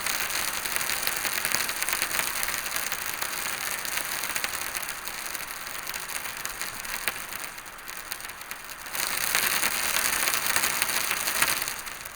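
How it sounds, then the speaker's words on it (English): A rain sound effect in Wwise plays as dense, steady hiss and patter, dipping briefly to a lighter spread before a heavier, closer downpour returns; no voices. "So if you want like light rain, heavy rain, so that's far field and near field rain."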